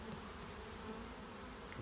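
A soft, steady hum of honey bees buzzing in a hive, faint and continuous with no voices.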